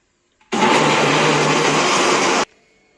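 A mixer grinder whirs loud and close for about two seconds as it grinds roughly 300 grams of boneless chicken for momo filling, starting and stopping abruptly with quiet before and after.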